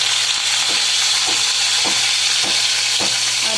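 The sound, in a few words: cumin, garlic and curry leaves frying in a pan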